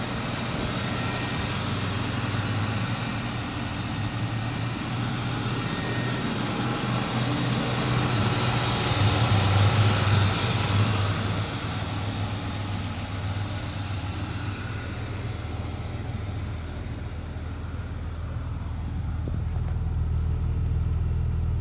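A 2000 BMW M Coupe engine runs while driving, a steady close rumble with broad road and wind noise that swells and eases slightly over about twenty seconds, with no talk.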